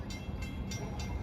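A Long Island Rail Road diesel train approaching at Bethpage, a low rumbling drone with rhythmic pulsing, moderately loud and steady over the brief span, with no voices.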